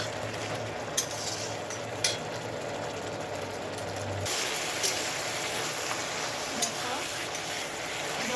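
Pui greens with a little turmeric being stirred in a pan, a low steady sizzle with a few sharp clinks of the utensil against the pan, close and continuous.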